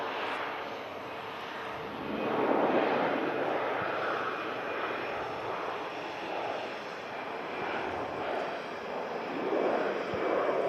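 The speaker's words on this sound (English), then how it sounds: "Lufthansa on the departure roll from runway 23 left" A Lufthansa airliner rolls for departure on runway 23 left at Manchester Airport in thick fog, its engines a broad steady roar that swells and eases in waves throughout, distant but sustained with no talk.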